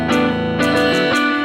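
Electric guitar strummed with every string left open and unmuted, producing a loud, messy, ringing chord with a few strum attacks over about a second and a half.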